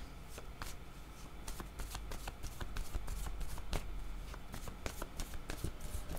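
Playing cards are handled and shuffled from a deck, a dense run of rapid crisp riffling flicks continuing throughout, close and fairly loud with no talking.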